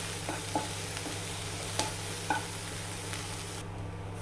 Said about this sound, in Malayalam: അതൊന്ന് ചെറുതായിട്ടൊന്ന് വഴറ്റിയെടുക്കുക